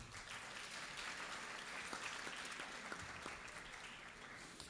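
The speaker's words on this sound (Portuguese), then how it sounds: "Pedir uma salva de palmas para ele." A seated audience gives a round of applause for a geography teacher at a talk on secondary-school scientific research, continuous soft clapping with scattered sharper claps, fairly faint and even throughout.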